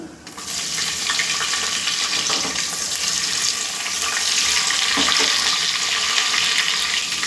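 Spices pop and sizzle in hot oil in a pan for chicken biryani, a steady, loud, hissing frying noise with scattered crackles, close up and continuous with no talking.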